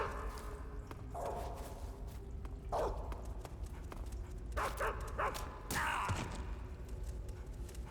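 Dogs barking in the stealth video game Metal Gear Solid 3, several short barks and yips coming in bursts over a steady low game background hum, moderately loud.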